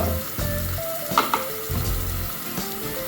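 Ginger garlic paste fries in a pan, hissing and sizzling steadily up close, with a few soft stirring scrapes and clinks along the way.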